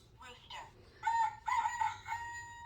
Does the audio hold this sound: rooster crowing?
yes